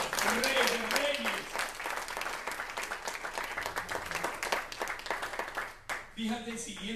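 Clapping from a church congregation during a sermon, mixed with voices talking and calling out, the applause dense at first and thinning toward the end.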